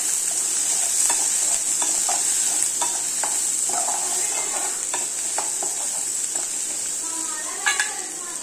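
Dried red chillies frying in a pan with garlic and onions for a tomato chutney, a steady bright sizzle throughout with intermittent stirring scrapes and light utensil clinks, close and fairly quiet.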